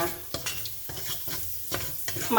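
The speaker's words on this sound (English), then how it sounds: "I'm gonna add a dash of EVOO in there, extra virgin olive oil, and I'm gonna brown and saute my" Garlic sautéing in extra virgin olive oil, a close crackling sizzle broken by regular scraping stirs of a utensil against the pan, moderately loud with no talk.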